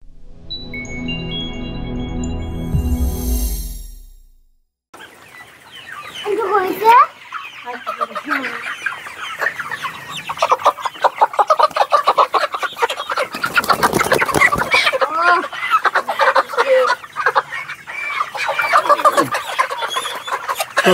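Layer hens cluck and squawk in a dense, continuous, close flock after a short musical intro, with a few louder calls standing out.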